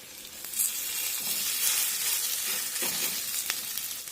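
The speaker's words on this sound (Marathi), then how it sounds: "आता अशाच पद्धतीने आणखीन पॅनकेक यामध्ये आपण टाकून घेऊया" Cabbage vegetable pancakes fry in an oiled pan over low-to-medium flame, a loud continuous sizzle with a few soft scraping stirs, close by and without speech.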